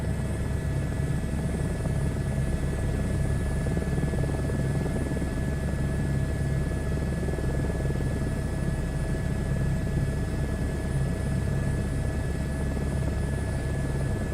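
H125 helicopter in a flight simulator game, a steady close rotor-and-turbine drone with constant whine tones holding evenly throughout with no talk.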